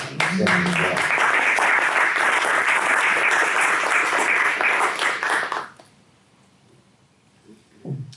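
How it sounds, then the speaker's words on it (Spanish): A crowd claps loudly and steadily for several seconds, then the applause fades out abruptly into near silence. "uno la puede aplaudir porque a lo mejor algún eco de resonancia va a tener en Francia"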